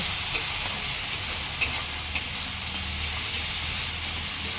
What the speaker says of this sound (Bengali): হলুদ গুঁড়ো, মশলাটা ভালো করে কষিয়ে নেব।